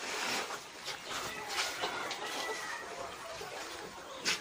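Chickens cluck and murmur in a busy poultry house while feeding, soft overlapping calls against a hissy background, with one sharper squawk near the end.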